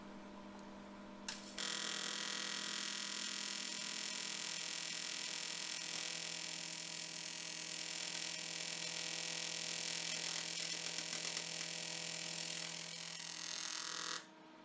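A welder works on a joint of a handmade micrometer vise, giving a steady, even electric buzz and hum that starts abruptly and holds for about twelve seconds before cutting off.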